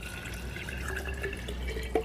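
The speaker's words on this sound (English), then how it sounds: "what I'm going to do is I'm going to pour a little bit of water" A little water poured into a container holding eggplant flesh and seeds: a soft, close trickle with light splashes and drips, continuous for about two seconds with a small splash at the end.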